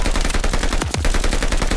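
Rapid automatic gunfire from the Call of Duty Vanguard video game, a dense, continuous burst of loud shots with a sweeping low whoosh midway, close and dominant throughout.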